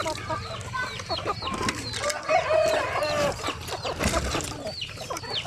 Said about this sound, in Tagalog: So yan po ang aming mga manok.